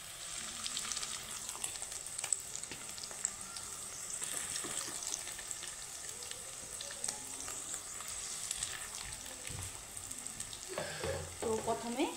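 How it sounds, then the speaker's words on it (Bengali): Fish roe fritters fry in hot oil, a steady bright sizzle with occasional bubbling crackles and stirring scrapes, growing busier near the end. "তো প্রথমে এক বেচ দিয়ে দিলাম, এইভাবে লাল লাল করে ভেজে নেব"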